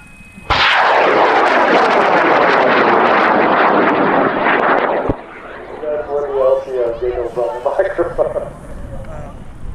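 A high power model rocket launches at Airfest 29 in Argonia, Kansas, with a sudden loud roaring burn lasting several seconds that cuts off sharply, followed by a voice speaking over fainter background sound.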